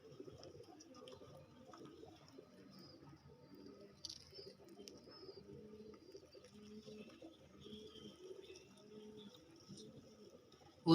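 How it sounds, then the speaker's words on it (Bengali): Racing pigeons coo softly in a repeated rhythmic pattern across the whole stretch, with a brief sharp sound near the middle and a louder burst at the end. "ওই যে দেখেন গাছে বসে আছে কিছু বনালো কবুতর"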